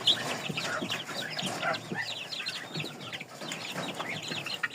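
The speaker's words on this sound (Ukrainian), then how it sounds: "Так, наші пухові курченятка." Downy chicks, a fluffy-feathered breed, cheep in a dense overlapping chorus of high, rapid peeps close by, with a few lower clucks mixed in and no talking.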